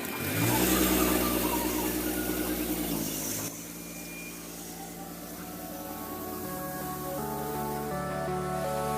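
A tractor engine starts in a maize field, a loud, close, low chugging rumble that eases into a steadier, quieter idle, with faint background sounds.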